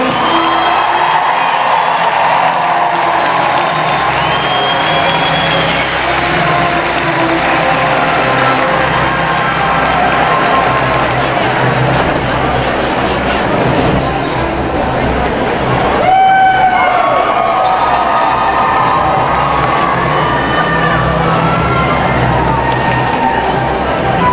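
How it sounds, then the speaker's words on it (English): A large crowd at a general session cheers and applauds flag bearers and their schools, a continuous loud roar of clapping, whoops and children shouting, with voices rising and falling throughout. "let's have a round of applause for our flag bearers and the schools they represent"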